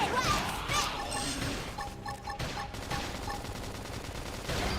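Gunfire in the game Xenoblade Chronicles X: a rapid fusillade of sharp shots and crashing impacts over about five seconds, loud and busy, with game sound layered underneath.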